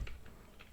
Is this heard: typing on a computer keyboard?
yes